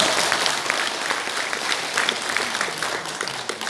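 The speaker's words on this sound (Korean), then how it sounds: "박수 한번 치시죠?" An audience at a forum in the National Assembly members' office building in Seoul breaks into brief applause, a lively patter of many hands clapping fairly close and loud, with slight surges in intensity.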